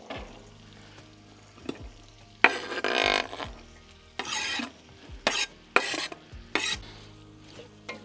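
A sweet onion is stirred in a hot cooking pot, with a utensil scraping and rasping through the pieces in short repeated bursts over a soft sizzle, close by and without talk.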